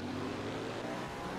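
410 sprint cars race at Fairbury Speedway in a World of Outlaws event, producing a dense, continuous engine roar that stays steady and broad throughout.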